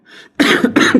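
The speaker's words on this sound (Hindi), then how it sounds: "खांसी चल गई" A person close by gives a soft throat sound followed by two sharp, loud coughs in quick succession.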